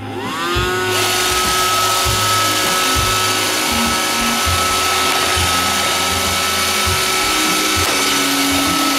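An iRobot Roomba 530 robot vacuum on a straight run, starting up with a rising whine, then a loud, steady motor and brush drone alongside a faint repeating low rumble from the wheels.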